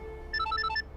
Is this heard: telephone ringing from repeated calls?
yes